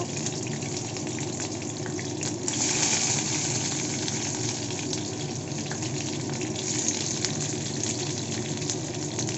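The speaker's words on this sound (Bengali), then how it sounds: "এবারে সবজিটাকে হালকা করে একটু ভেজে নেব" Onion and capsicum fry in hot white oil in a steel kadai, giving a steady, even sizzle that holds at a moderate level from start to finish with no talk over it.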